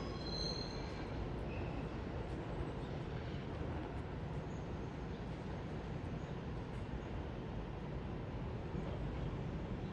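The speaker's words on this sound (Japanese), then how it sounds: "普通にあの通勤列車を改造してるんで、当たり前のようにね、あの既存車両と同じ音が鳴りました" Continuous rumbling of a tourist train converted from a commuter train, in motion, steady wheel and track noise with faint high squeals, loud and close throughout.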